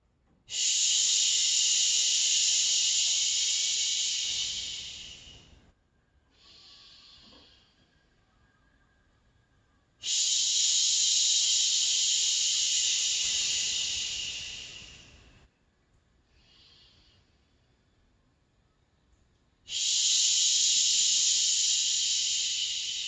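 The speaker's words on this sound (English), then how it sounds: "we'll just start with that shushing noise again" Long, loud shushing exhales repeat three times, each a sustained hiss lasting several seconds, followed by softer breaths and quiet pauses.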